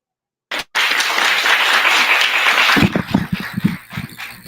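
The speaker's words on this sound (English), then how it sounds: "Please, claps again." An audience claps after a lecture, a dense, steady burst of applause filling the room, thinning into scattered claps toward the end.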